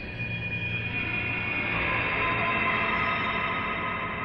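A vocal 'ooh' time-stretched into a long, smeared drone and drenched in reverb, made as psytrance foley; it holds steady and loud for about four seconds with no talking.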